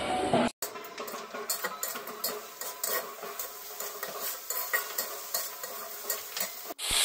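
Kashmiri chilli powder spice paste being stir-fried for a chicken curry, a spoon scraping and clinking against the pan in steady strokes over a continuous close sizzle, no talking.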